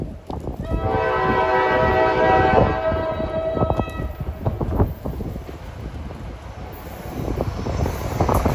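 An NJ Transit train, number 47, passes at Ho-Ho-Kus/Ridgewood, sounding a loud sustained horn chord for a few seconds before the rumble and clatter of the cars rolling by continue.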